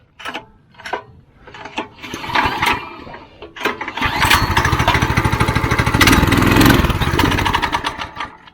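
Small engine started on choke and left to warm up, a few sharp clicks and clunks first, then a loud, close, rapidly pulsing idle that settles in and runs steadily before easing slightly at the end.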